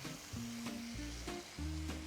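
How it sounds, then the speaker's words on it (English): Pot roast browning in a Lodge 10-inch Dutch oven over a campfire, a steady close sizzle with low rumbling tones and a few brief knocks, no voices. "Want to brown this all the way around."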